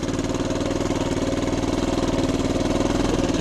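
A 1976 Honda TL250 trials motorcycle chugging at idle speed in third gear, a steady close low-pitched engine thrum with an even pulsing rhythm and no talk over it.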